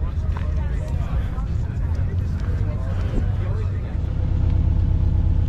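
A RUF CTR Yellowbird, a Porsche-based supercar, drives past at a Supercar Sunday meet, its steady engine rumble swelling toward the end over crowd noise, with people talking nearby.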